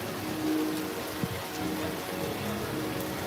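Rain patters down at EPCOT theme park, a soft, steady wash of drops with a few brief taps, fairly quiet and without any talking.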